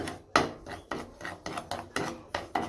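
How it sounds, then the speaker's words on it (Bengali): Semolina toasting in ghee in a pan is stirred with a utensil, giving about eight regular, close scraping strokes with a gritty rasp and no talking. "এখানে সুজিটা একটু ঘি দিয়ে ভালো করে ভেজে নিচ্ছি"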